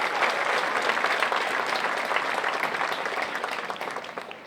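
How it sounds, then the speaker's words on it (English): Sustained applause from an audience at a high school commencement ceremony fills the hall, a dense, even clapping that holds steady for several seconds before easing slightly at the end. "Let's give them a round of applause"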